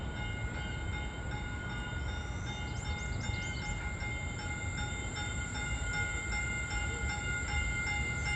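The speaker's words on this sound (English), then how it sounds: "There's the train." A Caltrain commuter train rumbles steadily into Palo Alto station, a constant low roar with a high tonal whine and faint squeals from the wheels, heard from the platform.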